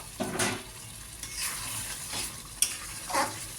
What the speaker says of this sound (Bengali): এবার আলুগুলো দিয়ে দিলাম, ভেজে রাখা যে আলুগুলো সেগুলো দিয়ে দেবো